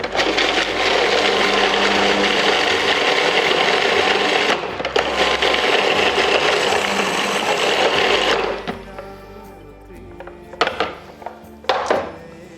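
Almonds ground in a machine for a raw oriental pastry give a loud, steady whirring grind for about eight seconds, pausing briefly in the middle, then stop, followed by a few quieter clattering knocks.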